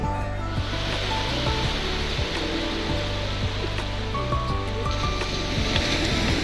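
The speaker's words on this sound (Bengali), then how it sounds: "নির্জন সমুদ্রের এই গর্জন আপনাকে খুবই আকৃষ্ট করবে।" Sea waves at the quiet Tajpur beach give a continuous, broad wash of surf mixed with wind buffeting close to the microphone, steady and fairly loud, with a low hum underneath and no talk.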